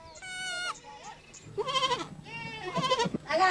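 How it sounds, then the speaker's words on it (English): Goats in a farm enclosure in Kenya bleat at sunrise, several wavering calls close by and overlapping, with a faint rumble of background noise beneath them. "The sun comes up and the goats and cows in our enclosure want to go out and graze."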